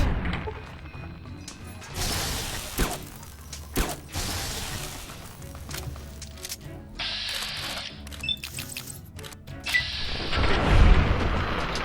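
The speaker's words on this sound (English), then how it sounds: "they are throwing grenades at me" Enemy grenades explode during a Fallout: New Vegas firefight, several booming blasts and crashes mixed with gunfire and mechanical game effects, loud and irregular across the stretch.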